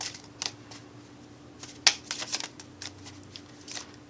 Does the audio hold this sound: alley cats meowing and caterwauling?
no